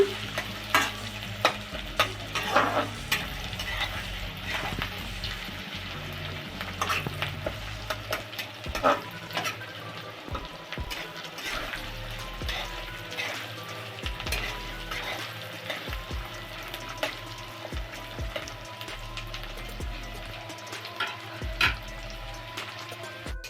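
Steady sizzling of four medium onions frying in a pan until reddish-brown, with a spoon repeatedly scraping and stirring through them; close and continuous, no voices.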